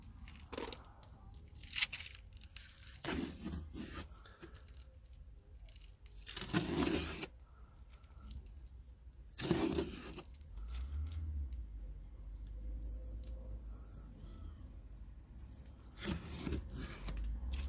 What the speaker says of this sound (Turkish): Bantları sökelim.